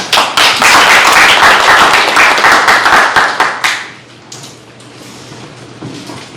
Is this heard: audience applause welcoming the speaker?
yes